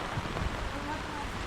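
Heavy rain pours down on a campsite at The Preserved Tanay during a typhoon, a dense steady hiss of drops on surfaces, fairly soft, with a voice speaking briefly over it.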